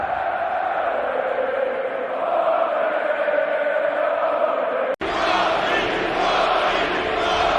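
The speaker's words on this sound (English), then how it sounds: "Montreal was feeling it with electric chants" A large Montreal hockey crowd chants steadily before a Canada vs USA game, a dense roaring wall of voices that cuts briefly and resumes just as loud.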